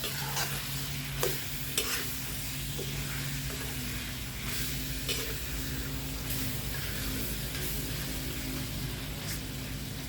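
Chicken stir-fried with boiled pickled bamboo shoots and plenty of oil in a spicy Thai curry-paste dish, a steady close sizzle and hiss broken by a few sharp scrape-and-stir clatters, no talking.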